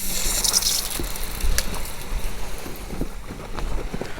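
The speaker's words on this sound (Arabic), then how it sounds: "خلينا نشغل الموتور نغسل" A running pump motor gushes water outdoors for washing. The steady loud rush of water has occasional splashes and knocks in it, and no one speaks.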